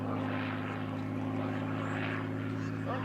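A P-51 Mustang fitted with a double-supercharged Merlin engine performs at the 1995 Sussex Airshow, its steady, loud propeller drone with a deep engine hum holding constant throughout, close and continuous.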